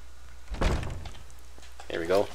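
A door swinging open in Skyrim during a tower dungeon raid, a single wooden thunk at close range, followed shortly by a voice speaking.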